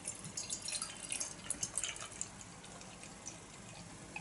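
Beer pouring into a glass, a Dugges Bryggeri Fresh IPA from Sweden, heard as a soft, continuous liquid trickle with small dripping splashes, faint and close, with no talking.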